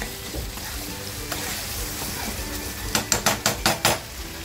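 Mutton keema masala fries in a pan with a constant crackling sizzle, then a quick run of five or six metallic scrapes and taps as a spatula stirs the mince near the end.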